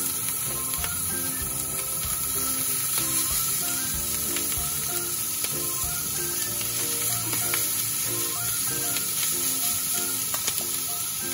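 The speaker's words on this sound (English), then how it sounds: "Sizzling hot!" Pork sisig sizzles loudly and continuously in a hot pan, a dense crackling hiss with occasional sharper pops and stirring.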